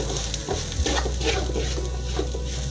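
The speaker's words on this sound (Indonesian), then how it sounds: "Aduk lagi." Spices from three packets of curry paste stirred into a jackfruit stew in a cooking pot, a steady close scraping and sizzling patter that runs without a break and carries no voices.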